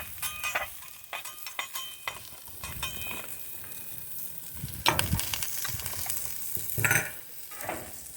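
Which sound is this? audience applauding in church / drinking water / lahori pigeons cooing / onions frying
onions frying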